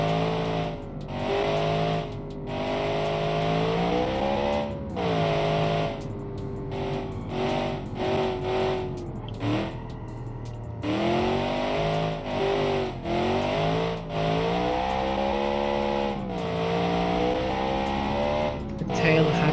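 Muscle car engine in the BeamNG.Drive driving game, revving and accelerating hard through corners with rising and falling pitch sweeps, loud and close, with brief dips as the throttle lifts.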